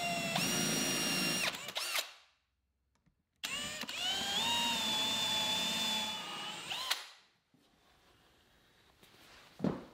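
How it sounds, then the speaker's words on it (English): A power drill countersinks holes in a flipped wooden sofa table, whining in two sustained bursts of a few seconds each, rising and falling in pitch, separated by brief silence and followed by a short final blip. "countersink the holes that I just drilled from the top"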